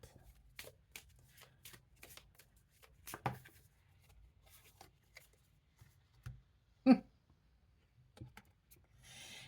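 Oracle cards are shuffled and drawn by hand, a quiet series of soft riffling slaps and papery flicks in an uneven rhythm, close and faint over near silence.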